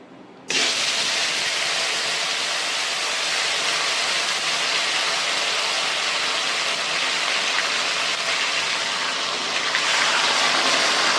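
Marinated chicken goes into a hot pan of oil tempered with dried red chili, fennel and bay leaf for a fennel chicken dish, setting off a sudden loud, steady sizzling hiss that carries on unbroken, no talk.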